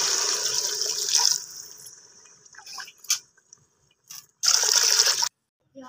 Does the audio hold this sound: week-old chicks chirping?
no